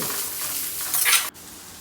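Chopped onion, carrot, green chili and ginger sauté in a pan, giving a short burst of close sizzling with a stirring scrape that swells briefly and then cuts off abruptly.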